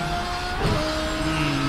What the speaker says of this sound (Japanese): 1と2ではそのエンジン音の後ろでねこう密かになってたようなギア